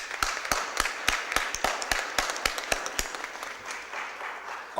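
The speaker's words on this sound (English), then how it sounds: "Let's give them a big round of applause." A small group claps at a Board of Aldermen meeting, with sharp, distinct hand claps in an uneven rhythm that thin out toward the end, close and moderately loud.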